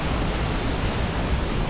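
Havasu Falls waterfall in a canyon rushes in a dense, loud, unbroken roar of falling water, close by and steady, with no voices.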